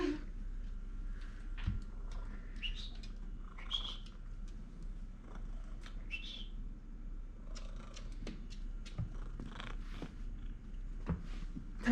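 Cat purring close by as a continuous low rumble, with faint chirps and clicks scattered over it and no clear speech.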